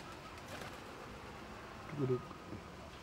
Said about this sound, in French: Les oiseaux ont faim.